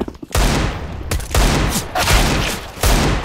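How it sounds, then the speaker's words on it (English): Several loud, booming blasts with rapid gunfire-like bursts from a grenade exploding in the video game CS:GO, each sharp onset followed by a rumbling decay, arriving in quick succession. "Throwing a grenade."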